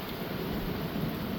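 Steady rain during a thunderstorm with gusty wind, a dense, continuous hiss with low rumbling underneath, constant and fairly near, no voices.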